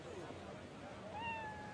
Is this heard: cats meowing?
yes